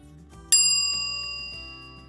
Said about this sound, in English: Read the text after you hear the bell.